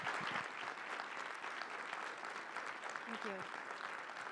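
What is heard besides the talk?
audience applause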